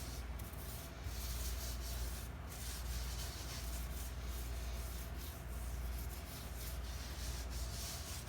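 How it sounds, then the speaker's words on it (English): Soft, continuous rubbing strokes come from buffing gold leaf onto a wooden dresser. The sound is close but faint and steady throughout, with no voices. "buff it to buff away any of the excess little pieces and push it in to make it smooth"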